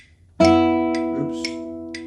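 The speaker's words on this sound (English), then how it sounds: "most time people are going to like accidentally also play the next lowest string at the same time." A guitar free stroke catches two adjacent strings at once, ringing together with a sudden attack and a long, even sustain; a few faint touches and string noises sit above the sustained tones.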